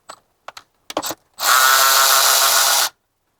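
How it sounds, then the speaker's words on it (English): Ratchet loosening T30 Torx bolts on the power steering pump of a BMW E90, a few short clicks followed by a loud, close, continuous ratcheting whir lasting about a second and a half before stopping. "you have T30s, two T30 bolts here and here. So loosen those."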